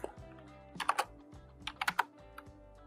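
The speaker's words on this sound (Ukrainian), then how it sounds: "Вводимо значення з клавіатури, наприклад, 1930." Keys tapped on a computer keyboard to enter a number, a short burst of sharp clicks in two quick clusters followed by a single lighter tap, close and clear with no talking.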